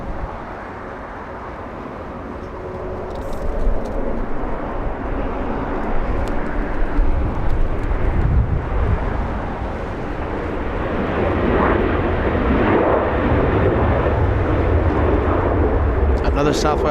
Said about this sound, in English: another Southwest departure. This one, Southwest 3121, flying to Baltimore, Maryland.